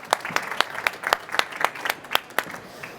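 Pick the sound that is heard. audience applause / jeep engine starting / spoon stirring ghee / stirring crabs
audience applause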